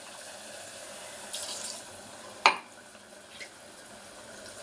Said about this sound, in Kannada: ಈಗ ಇದಕ್ಕೆ ನಾನು ನೀರು ಹಾಕೋತಾ ಇದ್ದೀನಿ